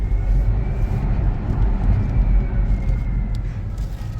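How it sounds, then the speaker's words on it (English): Hyundai Ioniq 6 AWD Long Range electric car heard from inside while driving, a low steady rumble of road noise with a faint thin motor whine held on top. "The only noise they make is the whine of the motors and the noise they legally have to make to alert pedestrians"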